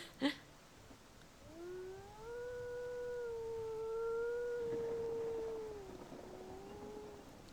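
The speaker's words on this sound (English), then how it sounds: "Oh, that is kind of a mid-toned howl" A single mid-pitched wolf howl in a wolf-breeding game rises smoothly, holds a long steady tone for several seconds, then slowly falls away, clear and alone after a brief click at the start.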